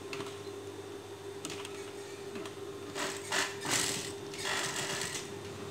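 A domestic sewing machine runs along the edge of bias tape on a child's dress, a quiet mechanical whir with a rapid clicking stitch rhythm that swells in short bursts toward the end.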